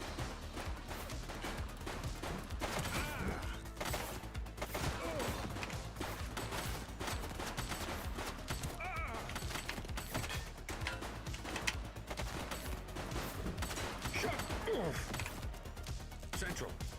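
Dense, continuous gunfire from The Precinct, a steady clatter of rapid shots layered with mechanical clanks and game noise, with voices speaking over the shooting.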